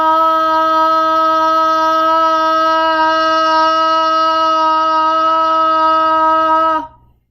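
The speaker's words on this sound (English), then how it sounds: "we are going to do this sustained ah for 10 seconds" A single loud, sustained "ah" sung as a voice exercise, one steady unbroken tone held for nearly seven seconds at even volume before cutting off abruptly.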